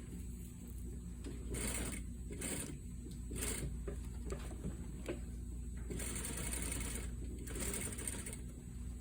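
Sewing machine running stay stitching along a pocket flap, its steady mechanical whir rising and pausing in short bursts, close and fairly quiet with no talking.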